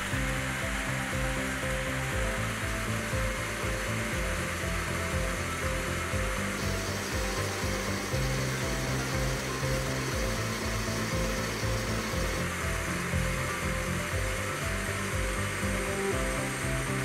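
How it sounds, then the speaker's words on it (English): Blender running continuously on salmorejo ingredients, a loud steady whirring roar with a slight shift in pitch partway through, no voices. "and blend for a few minutes"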